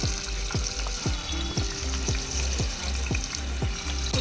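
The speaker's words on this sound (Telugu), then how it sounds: "కడిగి పెట్టుకున్న రొయ్యలు వేసేసుకుందాం" Soaked salted prawns frying in hot oil give a loud, continuous sizzle with regular scraping strokes of a spatula, about two per second, close up and with no talking.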